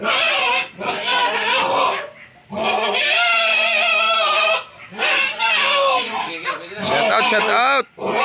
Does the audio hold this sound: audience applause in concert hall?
no